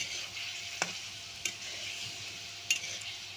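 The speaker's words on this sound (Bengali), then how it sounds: "আমি একটু ভালো করে কষিয়ে নিব।" Greens are fried in a pan with chili, onion, garlic, salt and turmeric, giving a faint, steady sizzle broken by a few sharp clicks of stirring against the pan.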